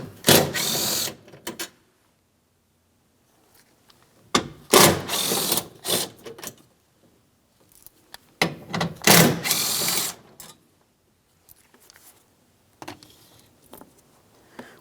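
A ratchet works loose three 10mm mounting bolts on a metal door bracket inside a 2007-2014 GMC front door, heard as three close bursts of rapid ratcheting clicks separated by quiet pauses.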